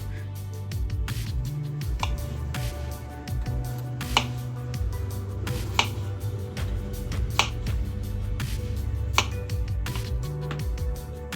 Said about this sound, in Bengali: আলু ভাজা যেমন হয় তেমন করে আমি কেটে নেবো কিন্তু একটু মোটা মোটা সাইজ করে কেটে নেবো